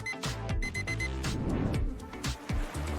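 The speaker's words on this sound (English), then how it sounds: "The correct answer is an alarm clock." An alarm clock rings loudly and close by, its electronic beeping repeating in quick bursts with short gaps for about three seconds. No voices are heard.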